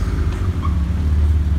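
A Mitsubishi Colt fitted with the engine from a GTO 3000 VR4 gives a deep, loud, steady engine rumble close by, idling or running without clear revs.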